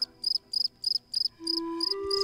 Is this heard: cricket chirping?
yes